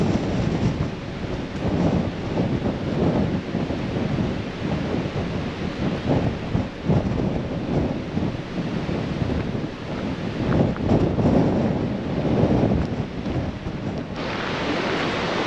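Strong gusting wind buffets the microphone along a plane-tree avenue at the Seuil de Naurouze, a steady loud roar with surges and no speech.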